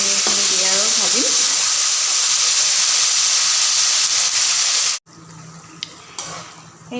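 Paneer with onion and tomato fries in a pan, a loud steady sizzle and hiss that fills the first five seconds before cutting out. Quieter stirring and faint kitchen noise follow.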